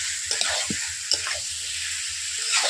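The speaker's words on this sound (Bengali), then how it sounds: "এইভাবে আমি চিকেনটাকে 15 মিনিট ধরে কষিয়ে নিচ্ছি।" Chicken pieces sizzle steadily in a pan while being stirred during a slow cook for Bengali chicken korma, with scraping and stirring knocks over a constant hiss and no talk.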